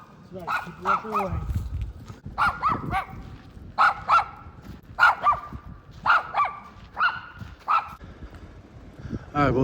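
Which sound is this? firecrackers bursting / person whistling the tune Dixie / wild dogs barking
wild dogs barking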